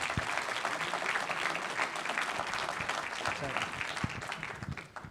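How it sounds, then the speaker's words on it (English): An audience applauds at a university lecture, sustained dense clapping from a full room that holds steady for several seconds before tapering at the end. "So let's give them a round of applause."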